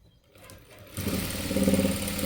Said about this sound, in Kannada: ಈ ರೀತಿ ಸ್ಟಿಚ್ ಹಾಕೊಂಡು ಬನ್ನಿ